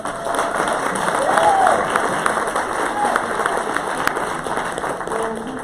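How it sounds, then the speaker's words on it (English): A crowd applauds at a hospitality and tourism forum panel, a broad steady wash of clapping with a faint murmur of voices underneath. "let's give Arel a round of applause"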